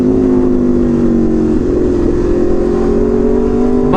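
Loud motorcycle exhaust holding a steady, droning engine note close up, then winding down smoothly after the throttle is released, with no voices.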